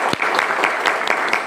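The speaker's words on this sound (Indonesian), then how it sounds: "beri tepuk tangan" Audience at a marketing business seminar applauding, dense steady clapping from many hands close by, loud and unbroken with no talk over it.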